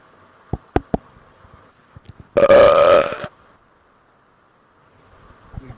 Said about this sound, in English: This belch is for you.